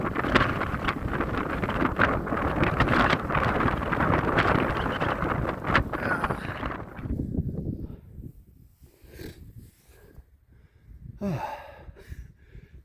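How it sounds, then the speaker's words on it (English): Strong wind buffets a microphone on a mountain hiking trail in volcanic New Zealand terrain, a loud roaring rumble for several seconds that drops into quieter gusty lulls with a brief renewed blast near the end. "Aside from the wind, it's great."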